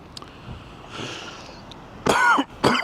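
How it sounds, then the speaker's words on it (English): Two harsh, close coughs, the second shorter, follow a faint sniff and some quiet breathing in an otherwise calm room. "I don't know what's up with my cough today"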